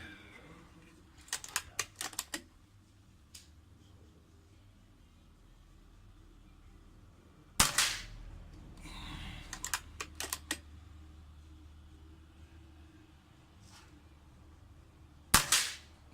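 Rifle shots strike a smartphone and a rifle scope set up as targets, three sharp cracks spread out with long quiet gaps between them, each shot followed by short rattling and clatter, heard close with no talking.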